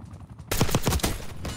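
The XMG in the Black Ops 6 video game fires a rapid burst of gunfire, loud and close, that starts abruptly after a moment of quiet and then rattles on with a noisy tail.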